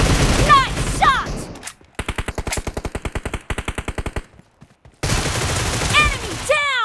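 Shooter video game gunfire: long rhythmic automatic bursts of evenly spaced, loud shots, set between stretches of louder gunfire blended with game announcer voice callouts.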